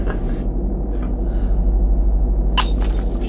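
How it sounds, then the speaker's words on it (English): Glass breaking in a dramatic film scene, one sudden bright shattering crash near the end, cutting through a loud, steady low rumble that fills the whole stretch. "Did you hear that glass break?"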